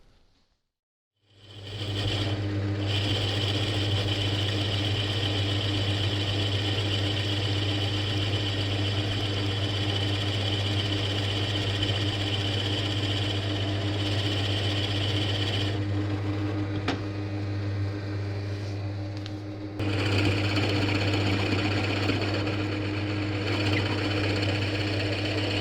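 A wood router hogs material out of the neck pocket of a guitar body, a loud steady whine held near throughout, with a brief dip before it spins back up.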